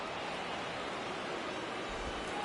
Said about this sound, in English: Crowd locked in right now.